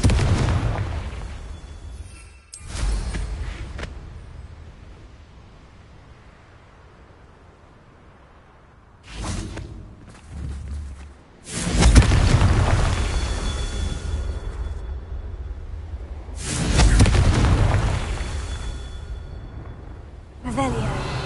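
Confringo explosive spell cast in the Hogwarts Legacy video game, several loud booming blasts with roaring tails, separated by quieter stretches of game ambience.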